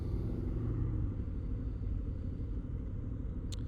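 A Harley-Davidson Low Rider S with a counterbalanced Milwaukee-Eight V-twin sits at idle, giving a close, steady low rumble with an even, loping pulse throughout.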